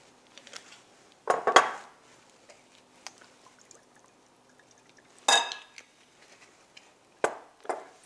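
Chopped fresh tomatoes with basil, olive oil and vinegar are stirred in a bowl, giving a few separate bursts of utensil scraping and clinking with quiet pauses between them.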